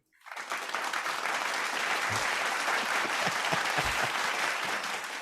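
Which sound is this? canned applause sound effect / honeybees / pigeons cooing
canned applause sound effect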